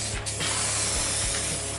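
An activated 2K aerosol spray paint can hisses in a steady, loud, continuous burst close by while coating Humvee parts, with faint mechanical clicks underneath.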